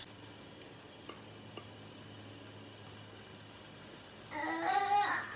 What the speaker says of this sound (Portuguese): Agora eu vou jogar essa misturinha na frigideira.